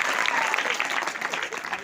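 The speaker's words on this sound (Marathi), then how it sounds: "चौधरी मुलासाठी जोरदार टाळ्या" Loud applause from a school audience for a boy named Chand Chaudhary called up at an environment awareness session, a dense steady burst of clapping from many hands throughout.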